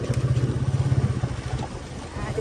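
A motorbike rides over a rough, broken road. Its engine throbs low and steady, pulsing strongly at first and then easing a little, close to the microphone.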